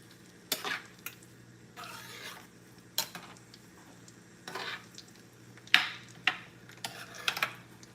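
Rice with butter being stirred in a pot for curry chicken and rice, a spoon scraping and clinking against the pot in several separate bursts over a quiet bubbling background, close by with no talk.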